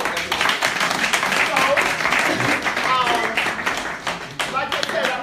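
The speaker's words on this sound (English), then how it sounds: "A round of applause, everybody." A crowd at a community gathering gives a dense, sustained round of clapping that fills the whole moment, loud and close, with a few voices and shouts mixed in.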